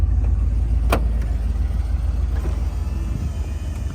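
A Jeep pulls away after a warm start, its engine a loud, close, low rumble that stays steady as the vehicle gets moving, with one sharp click near the start and no voices.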